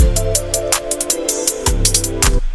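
Rolling hi-hat samples pitched in Logic Pro X Ultrabeat play as a fast, uneven ticking pattern of crisp hats layered over a sustained low tonal bed, loud and close, then cutting off abruptly at the end.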